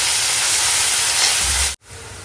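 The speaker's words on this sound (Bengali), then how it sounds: "এবারে দিয়ে দিচ্ছি আদা রসুন পেঁয়াজ বাটা" Ginger, garlic and onion paste hits a hot pan and sizzles in a loud, steady hiss that carries on without talk before cutting off abruptly.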